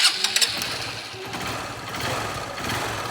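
A motorcycle engine cranks and catches after repair work, settling into a steady, rough idle that runs on throughout, fairly close by.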